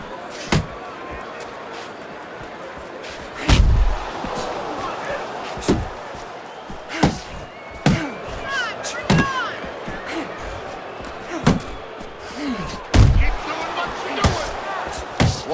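Punches landing in the Fight Night Champion boxing video game, sharp, irregular thuds spaced a few seconds apart over a crowd murmur, with commentary talking throughout.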